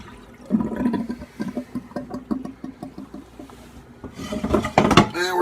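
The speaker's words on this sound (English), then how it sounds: "We're going to dump off the brine." Liquid brine poured off a pot of brined pork, a splashing, gushing pour that swells loudest near the end, with a voice talking over the early part.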